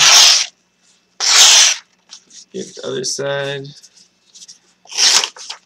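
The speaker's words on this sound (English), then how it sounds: "I can cut paper" The factory-sharp edge of a Shanghai Shadow knife slices cleanly through paper in a few short, dry rasping strokes, heard close up between bursts of speech.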